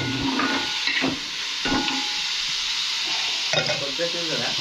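Onion fries in a pan until it browns. A continuous close hiss and sizzle is broken by several scraping stirs, with faint voices in the background.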